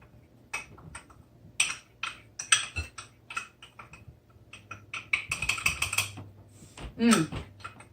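A whisk scrapes and clinks against a bowl as cocoa and peanut butter are worked into muffin batter, quick irregular metallic taps and rattles at close range with quiet gaps.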